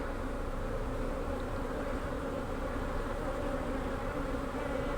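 Honeybees at an open hive make a dense, steady buzz, close and unbroken, with no other sounds.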